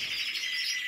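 Songbirds at a singing contest, a steady, bright high-pitched warble that carries on without a break, close and fairly loud.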